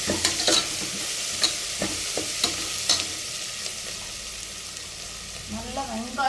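Onions and garlic are stirred as they fry in a pan, a steady sizzle broken by scraping strokes of the spoon at irregular intervals, close and moderately loud.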